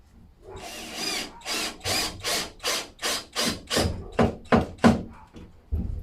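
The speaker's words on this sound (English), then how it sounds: "And I just use the drill, not a driver, so as not to over tighten" A regular power drill, not an impact driver, whirs in a series of short bursts, about a dozen in a row, each winding up and stopping as screws are driven into wood for a bar.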